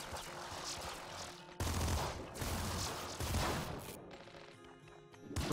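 Lightning rifle fire in the top-down shooter Nuclear Throne, loud crackling bursts arriving in several strong surges with short gaps, layered over continuous busy game noise.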